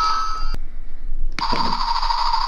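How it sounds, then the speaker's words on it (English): Toy battleship electronic alarm sound effect: a loud, steady high-pitched tone that drops out briefly near the start, then returns after a short gap, playing alone with no talking. "That's the alarm."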